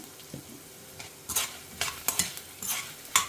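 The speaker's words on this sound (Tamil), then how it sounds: "காஞ்ச மிளகா எல்லாத்தையுமே வந்து இதோட ஆட் பண்ணிக்கலாம். நல்லா வாசனை வர வரைக்கும் வறுத்துக்கணும்." Dried red chillies and spices dry-roasting in a pan while a spoon stirs them, a quiet bed of faint sizzle broken by scattered scraping strokes and light clatters, no talking.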